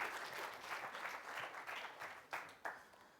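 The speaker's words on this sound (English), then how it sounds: "Give all these people a big round of applause" An audience applauds at a success-coaching seminar, a fairly quiet, uneven round of clapping that swells and dips, with a few louder claps near the end.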